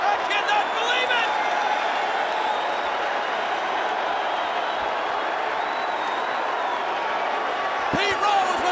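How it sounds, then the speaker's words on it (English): A Boston wrestling crowd roars steadily as Kane tombstones Pete Rose, a dense, sustained arena din with voices mixed into the noise throughout. "this crowd in Boston loved it!"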